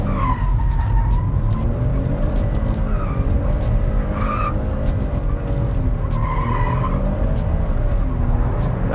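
A 2019 Kia Stinger turbo driven hard on a race track, its engine roaring steadily and loudly throughout, with tires squealing in several bursts and no voices.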